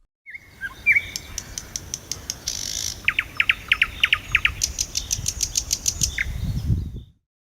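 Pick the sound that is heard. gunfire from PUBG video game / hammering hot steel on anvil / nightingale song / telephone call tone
nightingale song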